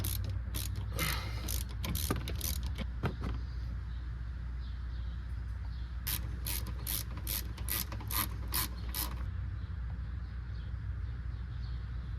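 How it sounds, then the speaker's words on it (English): A ratchet snugs up rear brake caliper bolts on a 2015 Mazda CX-5, giving two bursts of rapid close clicking, the first uneven and the second a steady, evenly spaced run, over a low hum. "you can use a little bit of forearm strength with your ratchet to snug them up"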